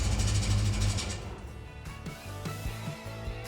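A car starter on an engine fitted with Holley Sniper 2 and Hyperspark ignition cranks in a loud, rough burst, then continues as a fainter, uneven grinding with repeated short pulses.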